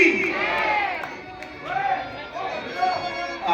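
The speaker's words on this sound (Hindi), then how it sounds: "जोर से इनके लिए तालियां बजाएं सारे और बोले कल्की भगवान महाराज की" A large crowd at a devotional gathering shouts and cheers in unison for the deity Kalki Bhagwan, with loud swelling waves of voices rising and falling close by.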